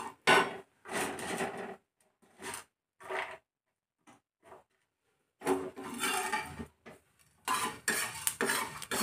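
Coriander and poppy seeds are dry-roasting in a pan, stirred in short scraping, rattling bursts separated by brief pauses, close and moderately loud.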